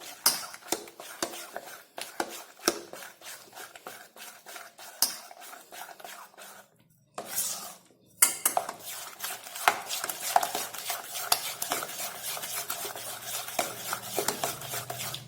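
Sweet wheat flour batter for mitha pudla is stirred in a bowl, with close rhythmic clicks and scrapes of a spoon against the sides, a brief pause midway, then steady stirring again.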